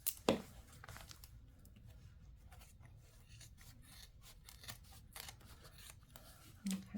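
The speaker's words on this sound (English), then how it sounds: "we're going to get our scissors and we're going to trim down this excess in here." Soft rasping snips and rubbing of scissors trimming faux leather, close by, with a few sharper cuts at the start and end.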